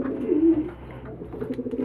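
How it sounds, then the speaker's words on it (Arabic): A young pigeon (squab) coos up close in low, soft, repeated murmurs, with one fuller coo near the start and quieter pulses after, with no talking. "نجيب مثلا زغلول او حمامة معانا اهو، هذا زغلول"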